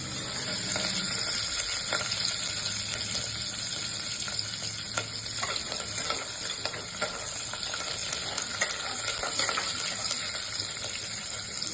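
Peanuts, mustard seeds and chillies frying in hot oil for a Khandeshi-style khichdi, giving a loud, continuous close-up sizzle with faint stirring clatter underneath and no voices.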